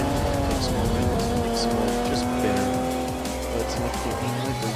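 Race cars in a racing video game squeal and skid through a hairpin as one is thrown sideways, engines droning loud and continuous under the tire screech while a commentator talks over the action.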